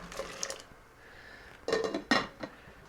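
Potatoes tumble into a cooking pot for a carrot and potato salad, giving a few close clunks and knocks against the metal, with the loudest thuds arriving in a quick burst near the end.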